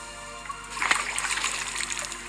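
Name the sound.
spring water splashed by hand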